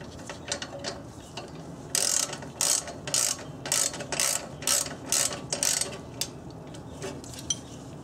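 A ratchet clicks in quick bursts of turns as it snugs up exhaust bolts on a Honda Accord during a muffler and B-pipe replacement, the sharp close pawl clicks coming in a steady rhythm over quiet garage background.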